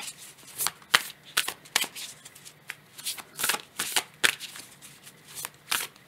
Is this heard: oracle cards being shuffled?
yes